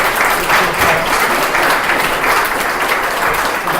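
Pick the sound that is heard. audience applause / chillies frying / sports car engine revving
audience applause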